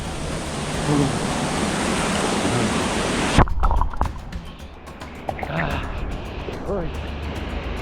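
A broad, rushing roar of a forest waterfall fills the first half, then cuts to quieter splashing and water movement from bathing with voices talking nearby.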